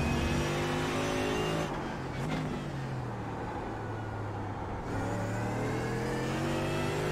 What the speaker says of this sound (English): CM Skinner needs to defend hard from that black Falcon Bilstein Mercedes, driven by Thibault.